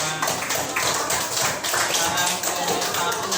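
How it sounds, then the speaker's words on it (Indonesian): Classroom applause for a student group after its presentation, a dense sustained burst of many hands clapping close by, steady throughout with faint voices underneath. "Beri tepuk tangan untuk kelompok 5."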